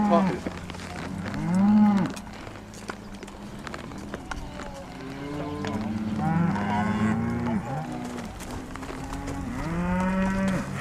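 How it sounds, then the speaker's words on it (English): Several cows moo one after another, some near and loud, others softer. Faint hoof clatter and rustling sit in the background. "Cows are very talkative."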